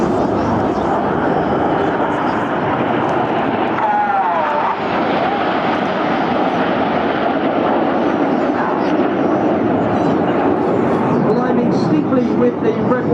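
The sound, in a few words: Red Arrows jet Red 9 flying at air show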